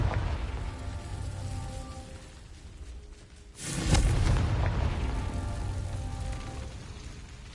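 Confringo fire spell in the video game Hogwarts Legacy: a single sudden booming blast bursts in midway after quieter ambience, then a rumbling crackle fades out over the following seconds.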